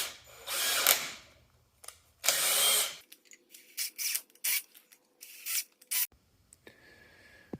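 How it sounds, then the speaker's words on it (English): Threads are chased on a part from a Case 310G bulldozer under restoration, heard as close, intermittent bursts of metallic tool whirring and ratcheting separated by short pauses. "We're going to chase the threads here."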